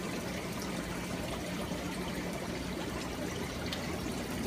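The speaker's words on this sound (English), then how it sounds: "Fill up the tube with water." Steady trickle of water running into a gravel siphon hose tube, a continuous close stream with no pauses and no voices.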